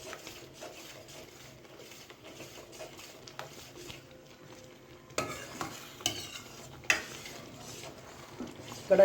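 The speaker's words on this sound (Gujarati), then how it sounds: "જ્યાં સુધી ઘટ ન થાય ત્યાં સુધી હલાવતા રહેવાનું" A sweet potato and milk barfi mixture is stirred in a kadai, giving repeated scraping and sloshing strokes with a few sharper clinks of the spoon toward the end. No one speaks.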